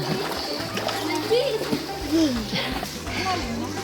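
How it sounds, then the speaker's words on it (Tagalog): Children jump and splash into deep spring water at a swimming spot in Dolores, with continuous splashing and watery churn under overlapping kids' voices and chatter. "Yung mga bata o nagtalunan."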